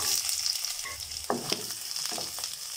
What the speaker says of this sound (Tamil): கடுகு பொரிஞ்சதும் இதில் ஒரு 10 சின்ன வெங்காயம் ஒரே ஒரு பச்சை மிளகா கீறி வச்சுருக்கேன், அதை சேர்த்துக்கலாம்.